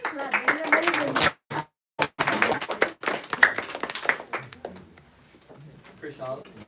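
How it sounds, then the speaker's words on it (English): Parents applaud at a middle school public speaking event, scattered hand claps in bursts with brief gaps, mixed with talk as names are called out over a moderately distant room. "Parents, we can clap."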